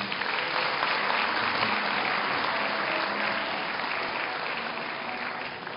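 Sustained applause from a large audience at a university graduation ceremony, dense and even throughout, tapering slightly at the end.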